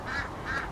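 Ducks quacking at an allotment, two short nasal calls about a third of a second apart, moderately close and fairly faint over a low outdoor background.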